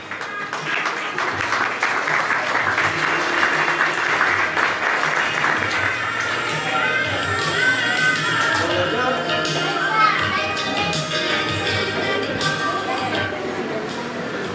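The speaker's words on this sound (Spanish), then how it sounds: "Los aplausos," Guests at a quinceañera party break into sustained applause, a dense crowd clapping near and loud for several seconds that then continues more loosely beneath children's voices and chatter.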